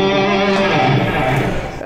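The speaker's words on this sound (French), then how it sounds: "si je passe sur mon lead, le résultat c'est que ça va activer mon delay et modifier ma réverb" Electric guitar through a Headrush pedalboard on a lead scene with delay and reverb switched on, loud sustained notes that ring out and trail off into echoing decay, with no one talking.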